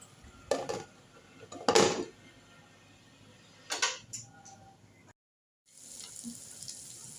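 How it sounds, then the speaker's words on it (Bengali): Pieces of chicken meat simmer in water in a covered pan for chicken chap, giving a low steady hiss broken by a few sharp clattering bursts, then a brief silence before the bubbling resumes. "মোট কথা, পানি উঠবে, সেই পানিতে সুন্দর করে সেদ্ধ করে নেবেন।"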